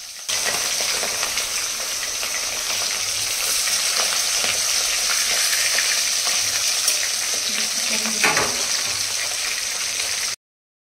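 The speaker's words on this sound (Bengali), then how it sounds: "এই যে 5 পিস ভাজা হয়ে গেছে আর 3 পিস ভাজা বাকি" Large fish pieces frying in a pan, giving a constant close, loud hissing sizzle with small crackles and pops throughout, and an occasional faint clink, before it cuts off abruptly.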